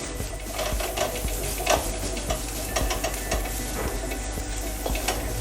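Curry leaves and turmeric sauté in oil in a pan for kingfish curry, giving a steady, close sizzle with faint stirring clicks throughout and no speech.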